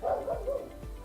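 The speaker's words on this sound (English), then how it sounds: "Barking dog." A dog barks a few times nearby, short yipping bow-wow calls in quick succession, fairly faint in a quiet room.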